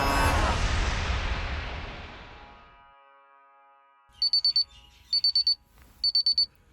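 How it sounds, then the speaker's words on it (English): A digital alarm clock goes off at 6 a.m., sounding three short bursts of rapid high beeps after a fading rush of noise and a brief lull, close and clear. "My alarm goes off."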